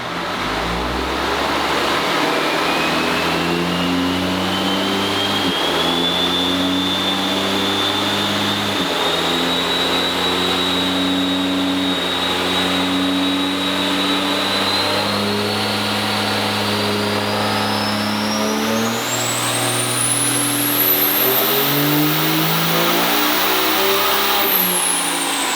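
A diesel truck with 100% injectors, dual fuelers and a 366 turbo roars through a long dyno pull, the engine droning through stepped gear changes while a rising turbo whine climbs to a high shriek near the end, loud and sustained.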